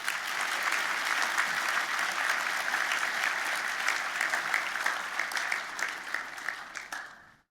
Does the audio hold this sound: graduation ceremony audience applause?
yes